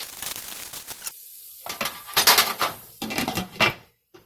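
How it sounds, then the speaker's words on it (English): Popcorn kernels and sugar are stirred in a pot for kettle corn, producing rapid metallic scraping and rattling in quick bursts, loud and close, with brief gaps between strokes. "we are going to stir and coat that kernels"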